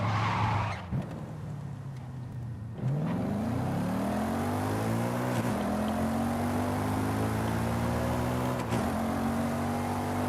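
Car with a seven-speed dual-clutch automatic accelerating in Forza Horizon 5, a loud continuous engine whose pitch climbs and drops with quick gear changes, with brief shift cuts near one, three, five and eight and a half seconds.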